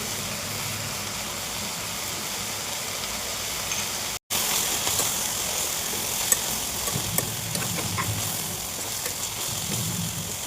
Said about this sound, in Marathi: आता हे चांगलं परतून घ्यायचं